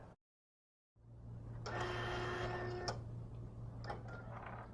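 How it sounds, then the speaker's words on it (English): A Datacard SD card printer prints a sample card, a steady mechanical whir with a constant low hum and a few ticks and clicks near the end, heard alone at close range. "After your sample card has printed, you are now ready to use your printer."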